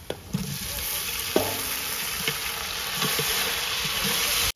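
Chopped tomatoes sizzle and fry in hot ghee in a pot for mutton biryani, with a steady crackling hiss and occasional scraping stirs and clinks of a spoon, close and continuous.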